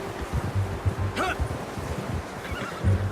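A horse in the video game Red Dead Redemption 2 lets out a loud, quavering whinny mid-clip, then a shorter second neigh, over hoof clops and a rushing outdoor wind.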